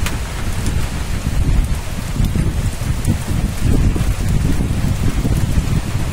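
Heavy monsoon rain pours steadily in hilly country near a temple, a dense, loud, unbroken roar of rainfall on surfaces with no voices.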